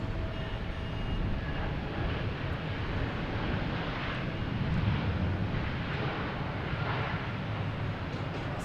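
A Boeing 757 airliner passes over Logan Airport in Boston, heading to Los Angeles, as a steady, broad jet roar heard from a distance that holds at an even level throughout.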